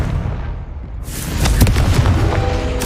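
A Confringo blasting curse in Hogwarts Legacy, a sudden loud boom bursting in after a quiet moment, followed by rumbling debris and crackling that carry on at high volume.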